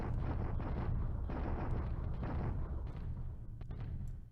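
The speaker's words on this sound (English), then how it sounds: "here comes the bombardments" Artillery bombardment in the War in the Pacific strategy game, a dense rumbling barrage of overlapping booms and low explosive thuds, steady and loud throughout before slightly thinning toward the end.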